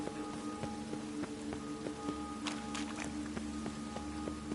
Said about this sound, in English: The rain will cleanse the city's streets